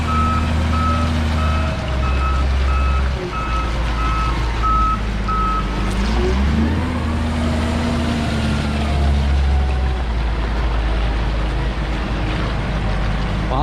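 A heavy truck's engine rumbles loudly while its reversing beeper sounds in a steady on-off pattern, as it drives up onto a small ramp of dumped concrete.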